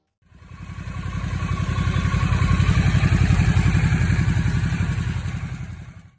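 A Harley-Davidson Nightster motorcycle engine runs loud and close with a steady, rapid low-pitched pulsing throb, fading in and out over about six seconds with no talking.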